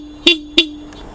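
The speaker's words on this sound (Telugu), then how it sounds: "and horn" A Yamaha XSR 155 motorcycle horn sounds two short, loud honks about a third of a second apart, close up, with a steady engine idle hum continuing underneath.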